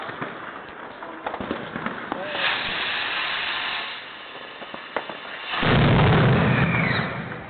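Lawinepijl firework rocket bursting against a lamppost, hissing and crackling bursts with a loud surge near the end, outdoors at moderate distance.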